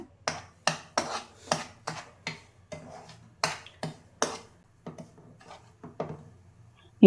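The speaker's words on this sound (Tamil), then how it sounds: "இது கோதுமை ரவை இது பன்சி ரவைன்னு சொல்லுவாங்க இப்போ இதை வறுத்துக்கலாம்" Wheat rava semolina dry-roasting in a pan for godhumai rava upma: a run of crisp, close scraping strokes and clinks of a spoon pushing the grains around, roughly two per second, fading to lighter taps at the end.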